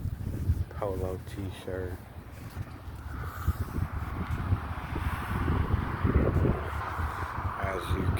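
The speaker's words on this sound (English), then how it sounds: "The wind has picked up severely." Severe wind in fire-season weather roars and buffets the microphone with a steady low rumble that grows stronger, while someone talks over it.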